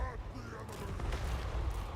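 Cannons fire in a Total War: Warhammer battle, booming low and rumbling over a noisy battlefield din, with voices present in the background.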